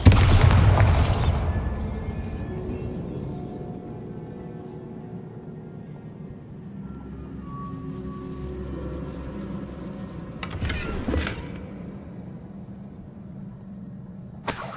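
A Bombarda blasting spell in Hogwarts Legacy goes off with a loud, sharp explosive burst at the very start, then a lingering rumble and magical hum, with another brief blast-like crack later on.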